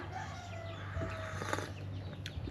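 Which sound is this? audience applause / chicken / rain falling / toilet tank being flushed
chicken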